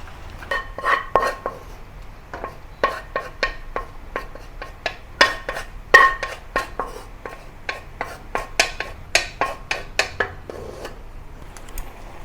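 Clinks and scrapes of pork belly being moved from a wok into a clay pot, a steady run of sharp metal-on-pottery knocks and rubs, close and moderately loud, with no talk.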